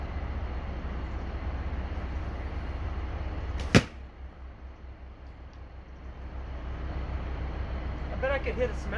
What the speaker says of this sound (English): Let me put this back here and fire a few more arrows from Dave's bow.